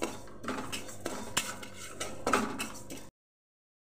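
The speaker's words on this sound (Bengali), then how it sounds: "বন্ধুরা মাছের মাথা দিয়ে মুগ ডাল করবো নিয়েছি, এবার ডালটা ভেজে নিচ্ছি।" Mung dal being fried in a pan as the first step of a dal cooked with fish head, heard as close, dry rattling and scraping clatter of a spoon against the pan, then abrupt silence near the end.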